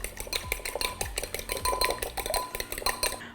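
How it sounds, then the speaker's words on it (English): Egg whisked with fish sauce in a bowl: a rapid, steady clatter of a whisk or fork striking the bowl, close and clear, continuing for a few seconds without talk. "We're gonna whisk it up."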